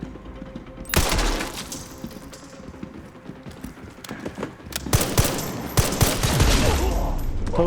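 Rapid gunfire from Resident Evil Requiem's ARK Lab fight, with dense bursts of shots and impacts starting sharply, easing, then building into a louder, sustained volley with some voice mixed in.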